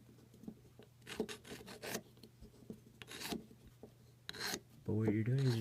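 A file rasps lightly across the tip of a spinning top to take off a burr, several short close scraping strokes in quick bursts, followed by a brief voice near the end.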